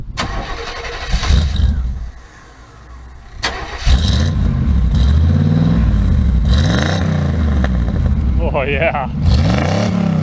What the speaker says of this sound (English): just finished the exhaust. It's got this little muffler tip and then a glass pack. So let's see how it sounds.